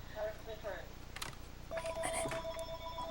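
A telephone rings indoors during a home livestream, a steady electronic ringtone tone sounding over a low background hum, faint and somewhat distant.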